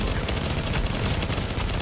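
Dense rapid gunfire from The Division video game, a loud continuous burst of overlapping shots that fills the whole moment with no clear gaps.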